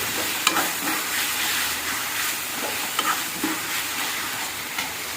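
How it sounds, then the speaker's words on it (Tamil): Ginger garlic paste sautés in hot oil in a pan for an egg roast, giving a steady, close hiss and sizzle with a few faint clinks of stirring, and no voices. "கொஞ்சம் வதங்கினோன்னா இஞ்சி பூண்டு பேஸ்ட்டு நல்லா வதங்கிடுச்சு. எண்ணெயெல்லாம் தூக்கி சேர்ந்துருச்சு."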